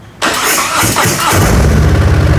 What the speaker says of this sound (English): Listen to the automatic compression releases on here. You'll hear it when I start it.